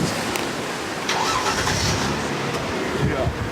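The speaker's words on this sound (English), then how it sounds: "I leave the engine running so we can take off" A car engine idles steadily in the background in Venice, a low continuous rumble beneath people talking nearby.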